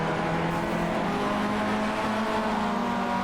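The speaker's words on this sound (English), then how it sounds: "here comes Parker in the MX-5" Mazda MX-5 rallycross car engine in the iRacing sim, a steady, loud, continuous drone with sustained engine tones throughout and no speech.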